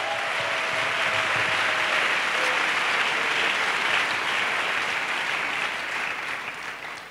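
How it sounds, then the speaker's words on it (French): A congregation claps together for Jesus at a church gathering. The applause is loud and steady for about seven seconds and fades slightly at the end. "Let us clap for Jesus."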